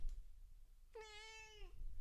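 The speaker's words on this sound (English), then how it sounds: "Can I get a meow?" A single drawn-out cat meow, clear and fairly close, rising then holding steady, with quiet room noise around it.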